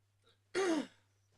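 One short, harsh cough or throat-clearing burst, close and fairly loud, with near silence around it during a quiet art-journaling session.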